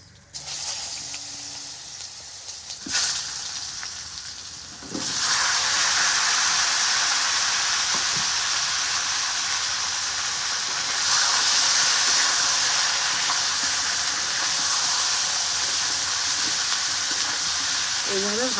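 Eggplant fries in hot oil tempered with black cumin: a quiet start with a few clicks, then a loud, continuous sizzling hiss from about five seconds on, with a voice talking at times.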